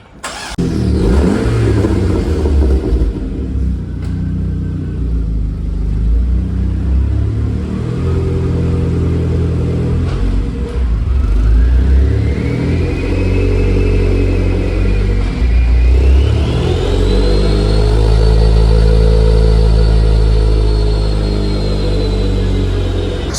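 A 20-year-old SAAB car on a dyno revs hard during a warm-up run, its engine note climbing, dipping and rising again in long sweeps over a constant deep rumble, loud and close throughout.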